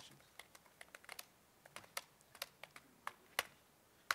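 Code is typed on a computer keyboard during a conference talk, a quiet, irregular run of crisp key clicks with brief pauses between bursts.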